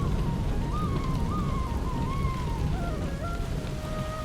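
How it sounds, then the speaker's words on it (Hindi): Heavy rain pouring during a night windstorm, a dense steady hiss with low rumbling beneath and a wavering tonal whistle sliding over it, continuous throughout with no voices. "एक रात तेज आंधी और बारिश आती है।"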